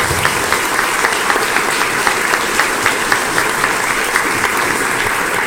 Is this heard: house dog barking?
no